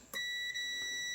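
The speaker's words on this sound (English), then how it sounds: "You hear the beep" A steady electronic beep from a tester checking the heating element of a Ninja Foodi smart lid sounds after a brief click, holding a constant high tone for about a second, nearby and alone.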